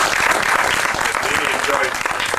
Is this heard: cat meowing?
no